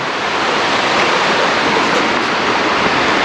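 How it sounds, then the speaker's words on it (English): Steady, loud rushing roar of a waterfall on the Abrams Falls Trail in Cades Cove in the Smoky Mountains, a dense, unbroken wash of falling water heard close up with no voices. "I love the sound of running water."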